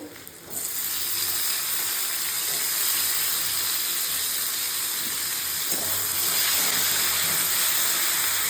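Curry sizzles and hisses steadily in a pan, a continuous broadband frying sizzle that stays loud and even throughout with no talking.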